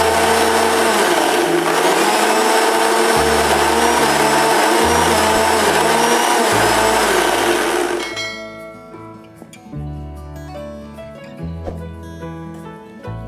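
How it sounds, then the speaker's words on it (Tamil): Kitchen mixer blender pulsing to make mayonnaise at home, a loud, close, continuous whirring grind for about eight seconds that then cuts off, leaving background music. "இப்போ இதையும் blend பண்ணி எடுத்துக்கலாம். சேம் அதே மாதிரி பல்ஸ் கொடுத்து பண்ணுறேன்."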